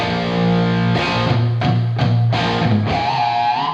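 An electric guitar plugged straight into a cranked amp at mid-gain with no effects plays several loud, distorted chords and sustained notes in a close, clear recording, with no talking.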